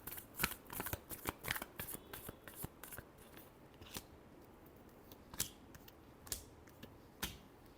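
Tarot cards are riffled and shuffled by hand in a steady run of crisp, close flapping and snapping bursts, each one short and fairly loud, with no voice over them.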